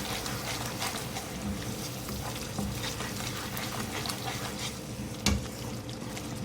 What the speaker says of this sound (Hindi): मसाले की बहुत अच्छी सी भुनाई करनी है